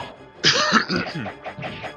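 A few close, harsh coughs or throat-clearing bursts, the first loudest, followed by softer breathy rasps.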